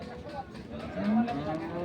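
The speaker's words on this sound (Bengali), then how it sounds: "এখানে একটি গরু বের করা হচ্ছে" A cow moos with a short, low, drawn-out call close by at a cattle market, set against a busy background of other livestock and faint voices.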